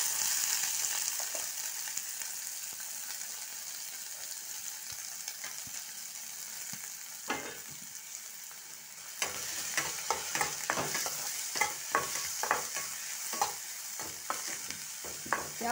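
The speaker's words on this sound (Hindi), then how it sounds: "ऑयल हमारा गर्म हो गया है, डालेंगे इसमें हरी मिर्च। इसके साथ ही डाल देते हैं इसमें अपना प्याज।" Green chillies and onion fry in hot oil for paneer paratha filling, a steady hiss that grows busier midway, with a burst of clacking stirring strokes toward the end, close by and without speech.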